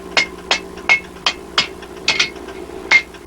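Hammer blows ring out on an anvil as bent iron is worked into a circle at a blacksmith's forge: about nine sharp metallic strikes in an uneven rhythm, each loud and close with a brief ringing tail.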